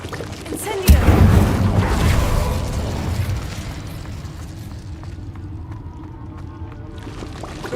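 An Incendio fire spell cast in Hogwarts Legacy: a sudden loud whooshing burst of flame that roars for about two seconds, then fades into a soft crackling ambience with faint ticks.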